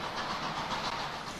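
A 1918 Baldwin steam locomotive hauls a daytime excursion train through the Northern California mountains, giving a steady close rumble and hiss with a faint clickety-clack of wheels on rails, continuous and with no voices.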